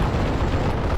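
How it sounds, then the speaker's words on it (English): .50 caliber machine guns rattle in the WWII strategy game Steel Division: Normandy 44, a dense, booming wash of continuous heavy gunfire and rumble filling the whole moment with no voices. "There we go, 50 cals have opened up."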